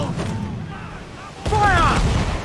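Pirate ship cannons fire in Assassin's Creed IV: Black Flag, a heavy low boom bursting in over steady rumble of sea and battle, with a crew voice shouting orders over the blast.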